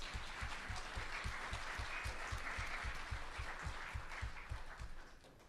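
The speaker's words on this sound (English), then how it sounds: "Let's give her a round of applause." Applause from a conference audience at an opening-remarks session, steady dense clapping throughout at moderate distance, with a faint rhythmic low thump underneath and no speech.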